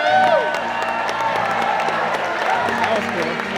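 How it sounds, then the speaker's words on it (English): A crowd at a Medieval Times dinner tournament cheers and applauds loudly, with whoops and shouts over dense clapping, filling the arena continuously. "My lords, my ladies, raise a cheer and honor his true horseman."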